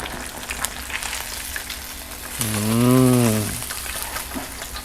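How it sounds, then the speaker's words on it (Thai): Fish (tilapia) fries in hot oil in a pan with a steady low sizzle, briefly overlaid by a loud lowing moo from an animal in the middle. "เราจะทอดด้านนี้ต่ออีก 4 นาที"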